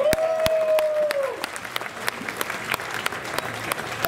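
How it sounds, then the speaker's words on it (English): Applause from an event audience of over two thousand, fairly steady but modest in level, with a sustained whistle-like tone early on and a few sharper claps standing out. "Can we get a round of applause for that alone?"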